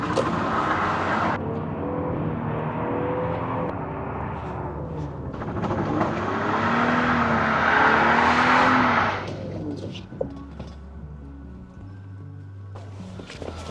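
A Lexus GS300 fitted with a Torsen helical limited slip differential drives sideways, its engine revving and straining with tires squealing in a sustained skid, loud and close before easing off.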